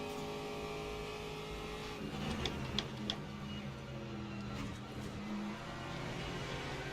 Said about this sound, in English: Here comes another hypercar